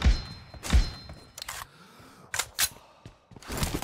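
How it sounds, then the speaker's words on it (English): Mechanical clicks and thunks of a weapon reload in a mobile shooter game played on an iPhone X, a few sharp, close metallic snaps spread across a few seconds. "Reloading!"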